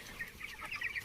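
Farm chickens, roosters and hens of about 1.5 kg, clucking faintly in a brief burst of soft, scattered calls against quiet background noise.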